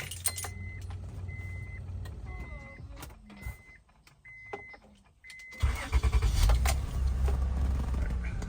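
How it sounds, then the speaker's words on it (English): Car key sliding into the ignition of a 2001-2002 Acura MDX with high mileage, a few light metallic clicks and key jingles up close in a quiet cabin, followed by louder rumbling as the vehicle powers up. "Put our key in."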